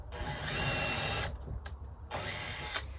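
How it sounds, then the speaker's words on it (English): A power drill whines in two close bursts, drilling a pilot hole in barn wood, running steadily for about a second each, separated by a short pause with a brief blip. "we're still going to pre-drill so that way we don't have to risk splitting the actual barn wood"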